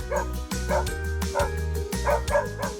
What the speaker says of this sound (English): This is a dog family.